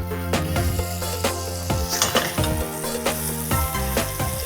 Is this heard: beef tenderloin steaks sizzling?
yes